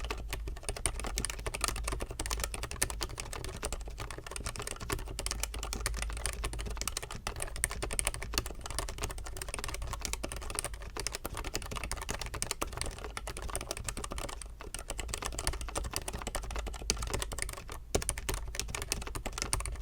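Fast, steady typing on a low-profile keyboard with lubed stabilizers and switches, a dense stream of soft, muted clicks and taps held close and even for the whole stretch, with no voices.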